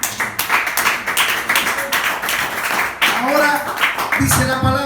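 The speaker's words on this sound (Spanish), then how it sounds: "Vamos a aplaudir." A church congregation claps together during a Spanish-language sermon, producing a dense burst of applause with scattered cheers and voices mixed in.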